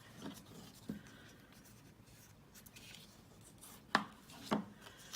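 A bone folder scores folded cardstock for an elf gift card holder, giving a few soft scraping strokes followed by two sharper rubbing passes near the end, close and quiet with no talk.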